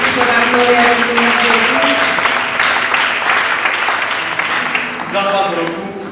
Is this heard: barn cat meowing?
no